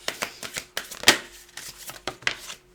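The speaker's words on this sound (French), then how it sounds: "je vais tirer 3 cartes a priori" Oracle cards are shuffled and handled up close in quick, uneven bursts of papery riffling and flicking, with no voice.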